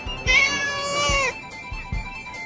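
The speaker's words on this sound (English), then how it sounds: "Here, kitty, kitty." A cat in the Mr. Bean cartoon lets out a single long, rising-and-falling meow, close and clear, with soft footsteps or thumps around it.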